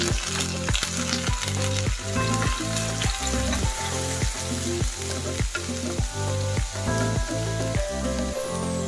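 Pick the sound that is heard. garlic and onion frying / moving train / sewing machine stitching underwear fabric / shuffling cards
garlic and onion frying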